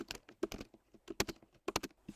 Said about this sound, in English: just manually typing out the days of the week.